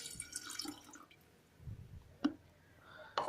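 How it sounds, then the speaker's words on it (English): Water poured into an electric kettle in a kitchen, quiet splashing and trickling at first, then a few sharp drips and clinks of the lid, close and faint. "So let's poured this water in this electric kettle like this."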